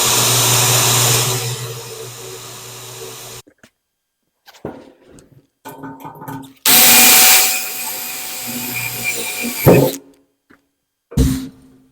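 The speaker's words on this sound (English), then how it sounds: "you're going to run these drill bits fast" Power drill boring pilot holes for a fish smoker, with loud high-speed whirring bursts under load, separated by pauses and short clicks, close to the microphone.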